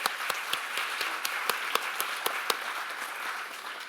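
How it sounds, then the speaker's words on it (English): Audience applause closing a panel discussion on Robert Motherwell's East Hampton years, a steady wash of clapping with a few sharp individual claps standing out, moderately loud and without voices. "Let's give them a round of applause."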